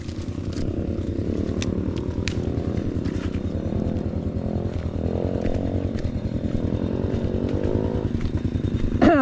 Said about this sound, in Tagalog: Di kaya ng ating motor.